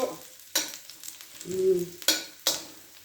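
Chicken adobo stirred in a pan with a spoon, scraping strokes landing at intervals over a soft, quiet background sizzle, with no voices.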